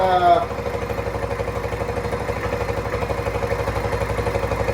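A small Suzuki Z50/Z90 motorcycle engine runs loud and close, with a rapid, pulsing putter that holds a steady, throbbing rhythm after a brief initial burst.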